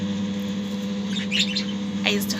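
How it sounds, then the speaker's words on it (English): Several pet birds chirp and squawk in short, bright bursts over a steady low mechanical hum, a few quick calls clustered near the middle and end. "these are my birds"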